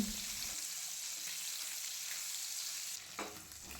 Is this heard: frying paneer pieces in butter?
yes